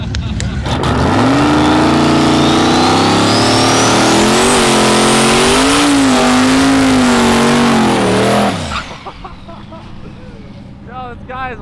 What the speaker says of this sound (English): this guy is wilding with these burnouts